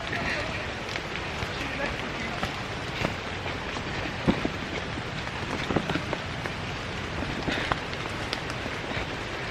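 Light rain falls steadily near a misty waterfall at Kaithapara in Kerala, a dense continuous hiss with scattered patters and drips throughout, moderately close and without any talk.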